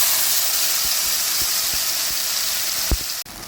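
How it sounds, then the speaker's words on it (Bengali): Spice paste sizzling loudly in hot mustard oil with cumin seeds, a dense close-up hiss with a few soft pops and a brief clatter near the end. "সেই পেস্টটা আমি দিয়ে দিচ্ছি।"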